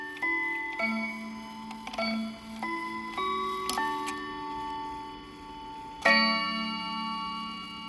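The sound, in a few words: Hamilton West German pendant clock ticking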